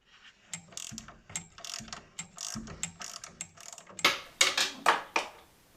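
Metallic ratcheting clicks from a 10mm spanner loosening nuts on the gas valve of a Ferroli Modena boiler, a quick series of close, crisp turns growing louder toward the end.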